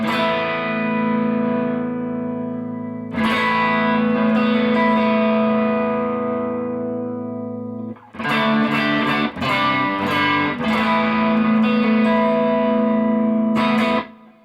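Electric guitar through a SONICAKE T&T dual TS-style overdrive pedal with clean mix and gain raised: loud sustained distorted chords ringing out, then a burst of choppy strummed chords and a final held chord, played alone.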